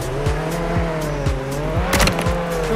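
A car drifting in the Roblox Jailbreak game, its engine droning steadily as tires squeal in repeated sweeping skids, loud and close throughout.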